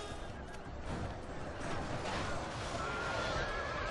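Horses neighing amid a Total War video game battle where spear militia cut down cavalry, whinnies rising over a dense, steady roar of clashing combat noise.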